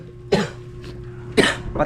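Two hard, harsh coughs from a person with a cold, one early and one near the end, close and loud with quiet between them and no talking.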